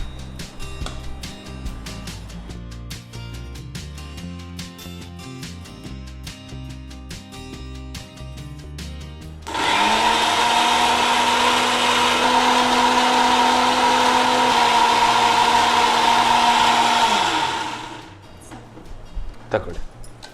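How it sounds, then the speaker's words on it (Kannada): A mixer grinder whirs loudly for about eight seconds, grinding grated coconut with water. Before it starts, people talk with music in the background, and the motor spins down at the end. "ಮಿಕ್ಸಿ ಅಲ್ವಾ?"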